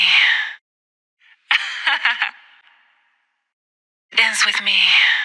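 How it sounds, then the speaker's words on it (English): Singing voice processed with a telephone-style EQ, thin and band-limited with boosted high mids, heard in two short phrases separated by a gap of silence. "this creates that classic telephone sound"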